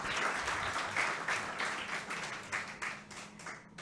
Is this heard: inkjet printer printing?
no